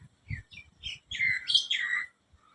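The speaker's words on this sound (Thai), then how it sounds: "เสียงนกร้อง ธรรมชาติสุดๆเลยเช้าวันนี้ค่ะ" Birds chirp and tweet in short bright bursts, a few quick calls followed by a longer trilling phrase, fairly close and clear against a quiet background.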